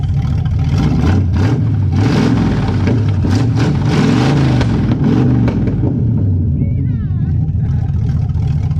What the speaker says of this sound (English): All right, she's warmed up. Let's give her some revs.